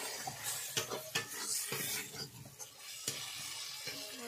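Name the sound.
frying and stirring spice masala in a pan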